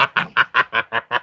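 A run of seven evenly spaced duck quacks, loud and close, each a short nasal burst repeating in a steady rhythm with no talk over them.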